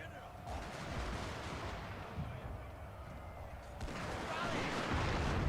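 Line infantry musket volleys and distant battle gunfire in a Total War battle, a dense rolling crackle of shots under a voice, building louder toward the end.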